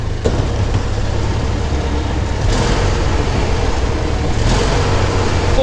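MAX IV amphibious vehicle pulling away, a loud steady engine drone with broadband rumble that swells slightly midway as it starts moving, close and continuous with no talk.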